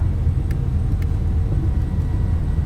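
Piston engines of a Black Square Piston Duke twin in a flight simulator, a steady low droning rumble with a few faint clicks, no voices.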